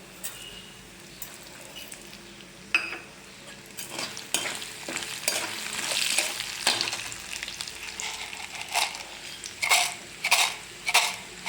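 Black gram, black pepper and spices fry in hot oil for kuzhambu, giving a steady sizzle while a spoon stirs and scrapes the pan. Clinks and stirring bursts come and go throughout, and no one speaks.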